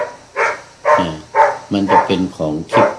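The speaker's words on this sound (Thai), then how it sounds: "เสียงหมาเห่าหลัง" Large white dog barking from a neighboring house, a series of about eight loud, rhythmic barks close by, with someone speaking at the same time.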